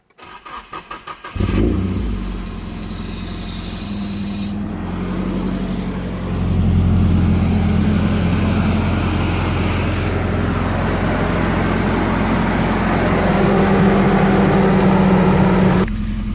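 A Nissan 240SX engine, just back from cooling-system work, cranks and catches, then settles into a steady, loud idle that runs close-up and uninterrupted.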